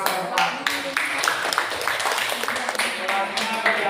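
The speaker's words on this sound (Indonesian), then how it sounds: "kasih tepuk tangan bagi kita semua." Classroom audience at a teacher-training session at Universitas Muhammadiyah Jakarta clapping: a brisk, continuous burst of many hands, moderately loud, mixed with voices talking over it.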